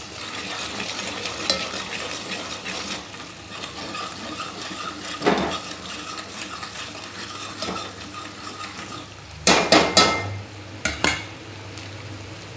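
Chili powder, turmeric and salt are stirred and sautéed in a pan for Mumbai-style butter pav bhaji, a steady close sizzle under scraping spoon strokes and a few sharp clinks of utensil against the pan.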